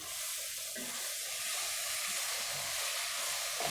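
Biryani masala mixture sizzles in a pan while being stirred and sautéed, a steady, close, hissing fry with soft scraping movements and no speech.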